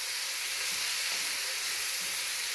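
Tomato puree sizzles steadily in a hot pan as it is stirred together with omena, a loud, even frying hiss with no talk.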